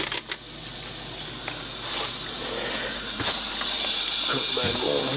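Water rushing and hissing steadily from a RainSoft Q2-series water softener as it pours out during regeneration, a broad continuous spray that builds slightly and holds, with faint clicks and handling noises near the start.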